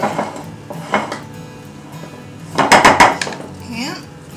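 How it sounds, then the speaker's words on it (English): Gluten-free vegan brownie batter scraped and smoothed into a baking pan, giving several bursts of spatula clinks and scrapes against the pan, with a cluster of louder knocks near the end and a brief voice-like sweep. "Smooth it on out evenly into the pan."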